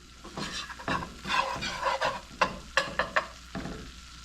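A flour and butter roux sizzles gently while it is stirred, with uneven scraping strokes and soft bubbling close by.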